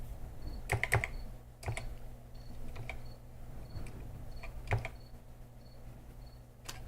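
Fingers type on a computer keyboard in short bursts of quiet clicks, close but soft, over a steady low hum with a faint recurring beep, and nobody talks.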